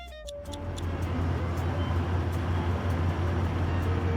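In the Cities Skylines 2 video game, a truck drives through city traffic, giving a steady low engine drone with a constant road-noise wash that holds at an even level throughout.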